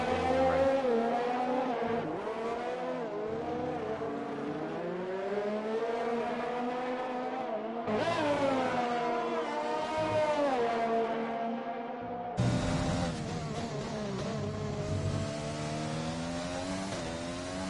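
Formula 1 race car engines in the F1 2020 racing game scream loudly and continuously, pitch sweeping up and down through gear changes, with abrupt cuts between onboard views.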